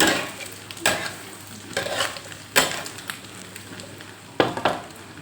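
Thai omelette frying in hot oil, with a spoon scooping it into a strainer: a steady sizzle broken by several sharp metallic scrapes and clinks, close up and without talk.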